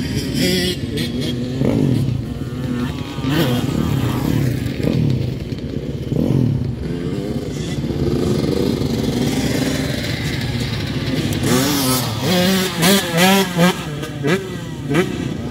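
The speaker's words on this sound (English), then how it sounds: "It's Michael on the pit bike." A pit bike motorcycle rides on a motocross track on a sunny day. Its small engine revs up and down in repeated bursts, with rising pitch sweeps as it accelerates, growing louder and closer toward the end over an outdoor background.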